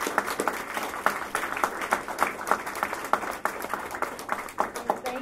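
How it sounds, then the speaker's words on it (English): Audience at a public library hearing applauding panelists, a dense burst of many hands clapping with uneven rhythmic peaks, fairly close and sustained, with some voices mixed in. "Let's give a gigantic round of applause to our panelists."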